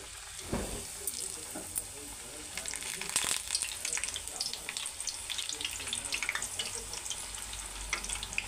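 Masala puris deep-fry and puff in hot oil with a bubbling sizzle. Sharp crackles and splashes flare up as each one goes in, and the sound stays fairly quiet and close, without speech.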